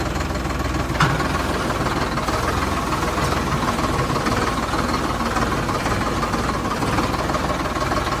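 A steady, close Ford 3600 tractor engine drone runs throughout at an even level, with a low rumbling hum and a faint knocking texture, no voices over it.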